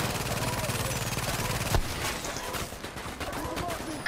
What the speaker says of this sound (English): I think I'm shooting the turret